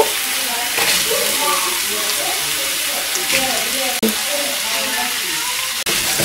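Spice paste fries in a pan with a steady loud sizzle and bubbling spatter throughout, close up, briefly broken by two sharp clunks.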